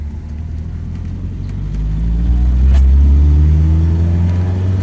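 Car engine warming up, idling with a deep, close rumble and then revving up smoothly to a louder, higher drone before settling, with no talking.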